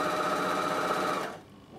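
A Bernina sewing machine stitches with thick thread in one steady, loud, close whir that runs for just over a second before cutting off, leaving quiet behind.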